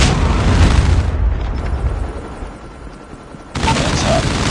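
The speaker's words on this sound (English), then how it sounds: "hostile Predator missile inbound" A loud, booming blast from a Predator missile strike in the Call of Duty Mobile video game, a heavy rumbling explosion that fades after a second, then another burst of noise near the end.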